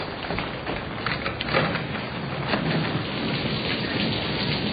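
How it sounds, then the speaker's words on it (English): Steady heavy rain with a thunderstorm rumbling beneath it, a broad continuous wash of downpour with swells of thunder, fairly close and loud with no voices, set in an old-time radio drama. "I can't hear a thing with this storm going on."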